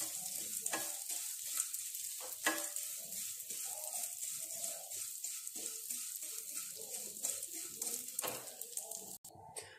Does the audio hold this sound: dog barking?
no